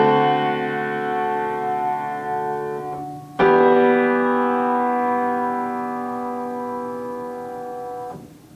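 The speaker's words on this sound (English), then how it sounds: "If I have a dominant 7th chord that sounds like this" A dominant seventh chord sustains on a distorted, effects-laden electric guitar for about three seconds, then moves to a new resolving chord that rings out until fading near the end, with no voices.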